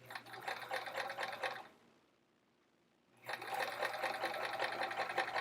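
A sewing machine stitches pencil pockets for a travel art folio using topstitching thread, running steadily, pausing for about a second and a half, then whirring on again close up.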